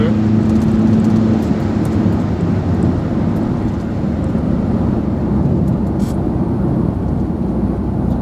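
A 2013 Ford Mondeo 2.0 TDCi diesel with 163 hp and Powershift gearbox pulls steadily at highway speed, its loud low engine drone heard from inside the cabin, mixed with road and wind noise.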